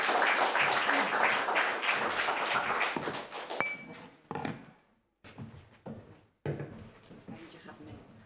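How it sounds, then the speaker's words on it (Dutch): Warm audience applause at a Dutch free-speech festival interview, a dense, loud patter of many hands that thins out after a few seconds into scattered claps and handling noises. "En dan wil ik heel graag jullie hartelijk applaus voor Judith Spiegel."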